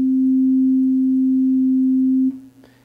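Osmose synthesizer producing a steady, loud sine tone from its first oscillator with no modulation programmed, holding level for over two seconds before cutting off, followed by a faint brief click.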